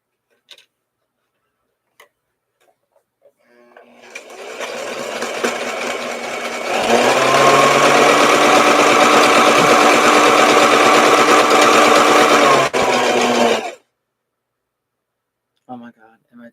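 A sewing machine stitching elastic for bloomers, a fast, loud, steady mechanical whir that winds up, runs for several seconds and then stops abruptly, with faint handling clicks before and after.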